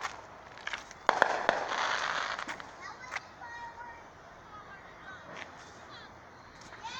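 Fireworks burst on the Fourth of July: a quick volley of sharp cracks and pops early on, then scattered fainter bangs further off, with a crowd chattering throughout.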